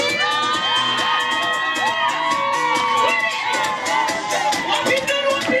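A crowd at an Akurinu wedding cheers and whoops with clapping, a steady, loud, dense din of overlapping shouts and high voices that holds throughout.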